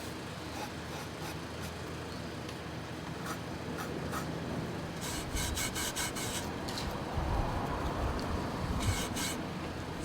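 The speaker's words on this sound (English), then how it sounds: "got a little bit of denatured alcohol or some sort of thinner, and we're going to clean off" Cloth rubbing excess glue off wood with denatured alcohol or thinner, a steady close scrubbing rasp that runs throughout, with brisker bursts of wiping toward the end.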